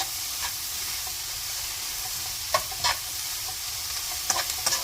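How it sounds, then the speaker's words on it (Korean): Anchovies and shishito peppers stir-fried over medium heat, a steady close sizzle with a few sharp scrapes and clicks of stirring near the end. "이렇게 중간 불에서 이렇게 볶아줍니다"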